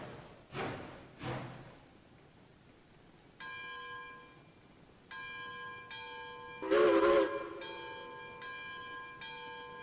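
Steam locomotive whistles in the Railroads Online video game: several sustained, harmonic chime-like blasts of varying length, preceded by a couple of short thuds, with a louder whistle burst near the middle.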